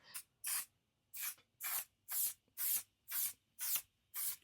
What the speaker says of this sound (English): Before you spray something on your face, spray it into the air.